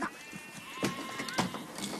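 A sheep bleats in a rural Kyrgyz setting, with two or three wavering, moderately loud bleats over a quiet background and no talking.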